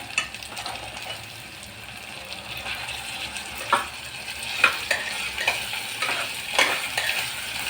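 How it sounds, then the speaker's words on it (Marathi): Bombil fish, potato chunks and onion sizzle as they fry in a pressure cooker, a steady close crackle broken by several louder scrapes and stirs of a spoon, with no voices. "बटाटा बोंबील आणि कांदा हा आपला भाजतोय कुकरमध्ये"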